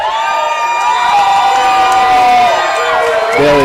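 A large MMA event crowd cheers and shouts loudly for a fighter's entrance, a dense, continuous roar with whoops throughout, close and sustained from start to finish.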